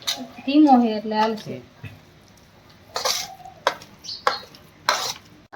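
Ladle scraping and clinking in a pan of sweet mohanthal mixture, a few distinct scrapes and knocks close by, following a voice at the start.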